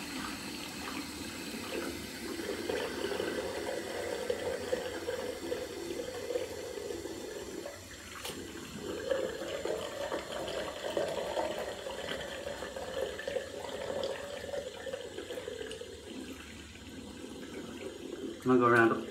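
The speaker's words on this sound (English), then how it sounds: "I'm just going to put water on my hands" Tap water runs steadily into a sink while someone wets their hair, a continuous close splashing stream that holds for most of the stretch before a brief louder clatter at the end.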